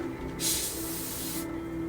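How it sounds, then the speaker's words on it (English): A short test burst of paint sprays from an airbrush or spray can onto parts of a 1/16 scale MPC General Lee model kit, a steady close hiss lasting about a second over a low background hum. "I'll just do a test spray back here."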